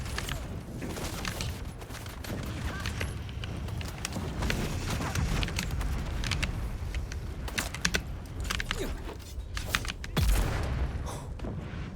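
Rocket launcher blasts and gunfire in a battle in the game Dune: Awakening, a dense run of sharp cracks and booms over a constant rumbling background, with a heavier impact near the end.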